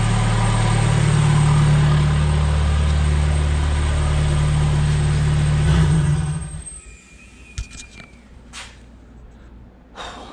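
A car engine with a K996 throttle body idles just over 1,000 RPM, a loud steady hum for about six seconds before cutting off, leaving quiet room noise with a few faint clicks.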